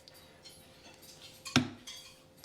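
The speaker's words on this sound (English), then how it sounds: "So now I'll go ahead and add the egg." An egg knocks once against the rim of a bowl of keto chaffle batter, giving a single sharp crack that rings out above a quiet kitchen background.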